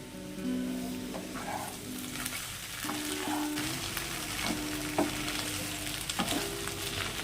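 Spices and Kashmiri chilli powder being sautéed in a pan for an echor chingri (jackfruit and prawn) curry: steady low sizzle with repeated scraping stir strokes every second or so, with a faint tonal hum, no talk.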